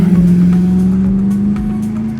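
A 1992 Range Rover Classic fitted with an LS3 V8 drives along, its engine holding a steady, close, even drone with no voices over it.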